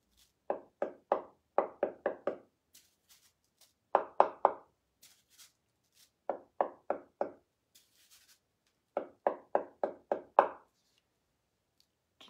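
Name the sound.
tapping dots with back of paintbrush on noodle board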